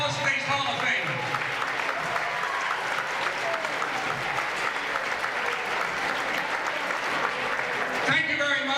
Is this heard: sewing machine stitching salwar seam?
no